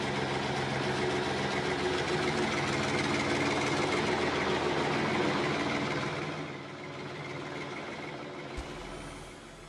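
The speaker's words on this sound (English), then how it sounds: "I thought I was going to get hit by that tractor." A John Deere tractor engine rumbles loudly and steadily, then drops to a quieter, lower running sound partway through.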